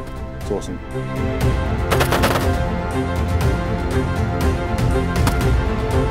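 Gunfire at a firearms training range in Perth: a dense run of loud, close shots cracking in quick succession over about six seconds, some overlapping, with the echoing boom of the range behind them.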